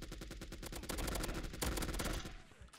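Automatic gunfire in the mobile first-person shooter Fire Strike crackles in a rapid, evenly spaced burst, then a brief heavier volley before trailing off near the end, with no talking.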